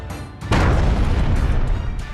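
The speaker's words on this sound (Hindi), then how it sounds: "धमाका इतना ताकतवर था कि कुछ पल के लिए तो लोगों के कानों की आवाज तक चली गई थी।" A bomb blast near Kabul airport erupts as a sudden, loud, close boom about half a second in, then a heavy rumbling roar lingers and slowly fades over the next two seconds.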